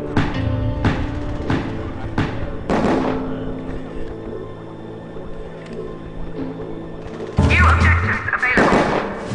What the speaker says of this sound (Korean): 워커가 저격총을 쏴?